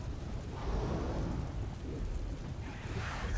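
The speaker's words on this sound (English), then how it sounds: "the thunder sound effect is just as cool as the lightning one" A low, rumbling thunder sound effect rolls on steadily at moderate level, a dark broadband wash with no clear separate cracks.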